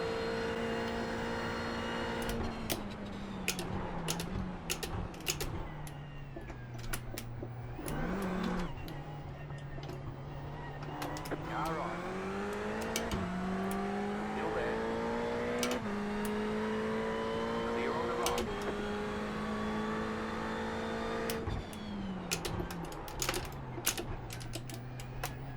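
Race car engines roar in an iRacing race at Spa, a continuous engine tone rising and falling through gear shifts, with rapid clicking keyboard or wheel taps layered over it throughout.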